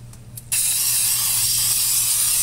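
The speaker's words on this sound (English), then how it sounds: "we're going to spray the bundt pan" After a couple of soft clicks, an aerosol can of non-stick cooking spray with flour sprays onto a bundt pan in one long, steady hiss, close and loud.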